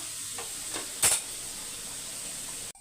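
Onions sautéing in a pan for an Andhra-style horse gram dish, with a continuous close hiss and sizzle, a few soft scrapes of stirring and one louder clank partway through, and no speech.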